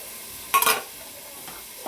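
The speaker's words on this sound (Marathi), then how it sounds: "बघा मिक्सिंग चालू आहे" Chicken masala is stirred in a pan, a low sizzle cut by one sharp scrape of the spoon and a fainter second stir.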